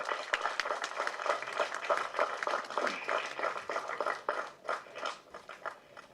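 An audience applauding actors, a dense, fairly faint patter of many hands clapping that carries on steadily with small swells and dips.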